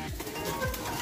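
A pigeon in a loft gives a brief low coo, a soft throaty call repeated in a short rising-falling pattern, heard close over faint background noise.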